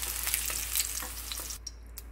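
Oil left over from frying potatoes sizzles steadily in a pan, a soft continuous crackle with light stirring scrapes, fairly quiet and close with no talk.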